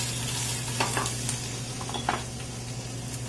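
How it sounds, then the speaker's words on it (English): Shallots and garlic stir and sizzle in a pan with Chilean blue mussels, a steady close frying hiss with a few soft scraping stirs over a low kitchen hum. "add some shallots and garlic"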